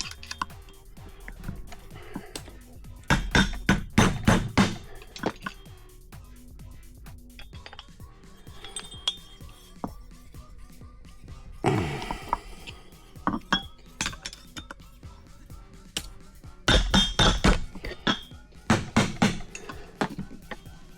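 A seal being driven into a Minn Kota Ulterra trolling motor during a rebuild: scattered sharp metallic taps and clinks, with denser bursts of rapid striking in a few spots, close by and with no talk.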